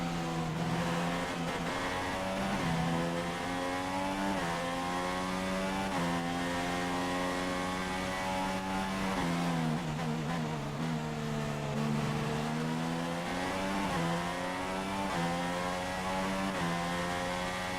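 F1 race car from F1 2016 accelerating in a racing game, a steady loud engine note whose pitch climbs and shifts through gear changes, continuous and close throughout.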